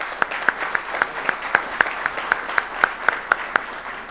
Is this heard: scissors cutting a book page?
no